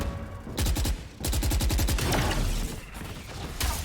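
Rapid automatic gunfire in the tactical shooter Valorant during a college esports playoff match, loud bursts of evenly spaced shots broken by brief pauses, with game ambience underneath.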